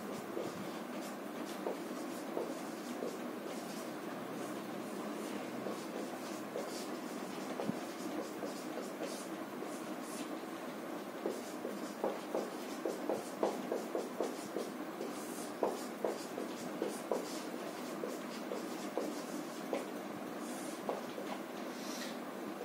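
Chalk taps and scratches across a board in quick irregular bursts, faint and steady over a low room hum, as a Hindi rasa sutra is written out.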